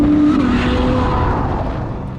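A loud, roaring Ferrari F12 V12 engine note rises and then slowly winds down, a powerful high-revving car close by with no voices.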